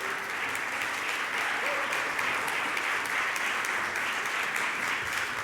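A conference audience applauds artists at an eco-social renewal event, with a dense, steady wash of many hands clapping that stays loud and even throughout, with no voices standing out.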